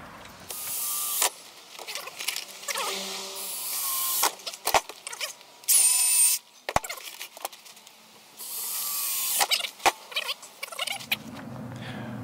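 Screws being driven by power tool into wooden parts of a chicken cage and nest box, several loud whirring bursts with clicks and creaks between them, up close.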